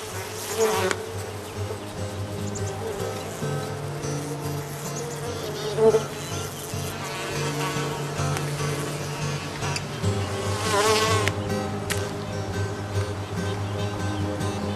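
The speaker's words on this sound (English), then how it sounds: "The sap attracts a variety of insects, thus expanding the sapsucker's dining options." Flies and other insects buzz around sap oozing from a tree, a dense, steady drone held for the full stretch, with louder passes swelling and fading as they fly close.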